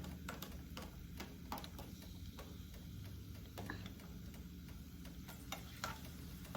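Garlic frying in a pan on a home stove, with a steady broadband sizzle running the whole time and occasional sharp ticks and clinks from stirring.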